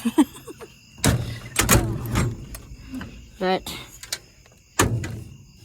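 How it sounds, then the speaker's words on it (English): A stiff, bent trailer door is worked shut with several loud metallic bangs and thuds and a brief squeal, spread over a few seconds, with a little speech between the impacts. "my trailer door, as you can see, it's kind of all been up. So getting it to close isn't the most easiest task."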